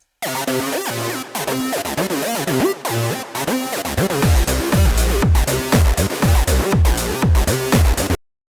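A bright synth lead melody plays alone at first, then punchy drums kick in partway through, making the music fuller and louder.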